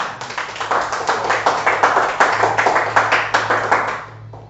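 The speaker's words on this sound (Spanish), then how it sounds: "Entonces bríndenle un fuerte aplauso al Señor." A church congregation claps in rhythmic, fairly even beats for about four seconds, loud and close, tapering off at the end with a low steady hum underneath.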